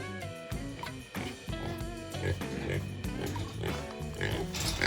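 Farm pigs near a pen with pig manure in a rural village grunt in quick rhythmic bursts, quiet and close, the snorts overlapping one another.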